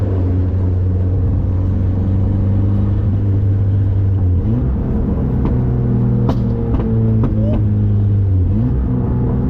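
A turbocharged Mazda Miata drives along, its engine a loud, steady low drone whose pitch shifts between gears, with light clicks and knocks scattered over the constant rumble.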